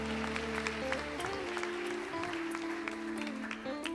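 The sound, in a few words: church congregation applauding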